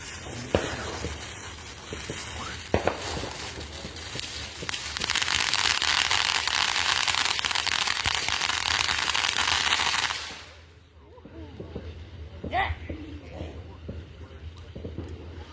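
A Phantom Fireworks Party All Night Fountain firework sprays with a sustained loud hiss that runs about five seconds, then cuts off abruptly, leaving quieter crackles and distant pops at an Independence Day fireworks show.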